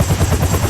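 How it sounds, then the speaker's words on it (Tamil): A Roblox helicopter in a video game gives off a loud, steady, low rotor drone with a fast chopping pulse, unbroken and without voices. "ஓகே. ஹெலிகாப்டர்."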